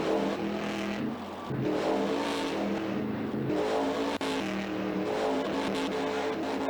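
A monster truck in a Monster Jam video game revving hard while spinning 360s, a continuous loud engine roar with rising and falling revs and tire scrub, alone without speech.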